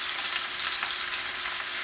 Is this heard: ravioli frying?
yes